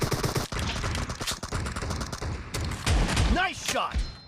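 Gunfire rattles in PUBG Mobile during a team deathmatch with assault rifles and shotguns. Quick shots crack in dense, irregular bursts, and short swept effects sound near the end.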